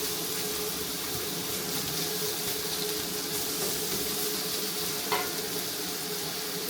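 Garlic, onion and ginger sizzle in a hot pan as they caramelize, a steady frying hiss with faint stirring scrapes and one brief clink near the end.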